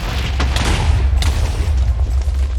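A creeper explodes in Minecraft SkyFactory 4 with a heavy, close boom over a deep, continuous rumble and a couple of sharp crackling bursts.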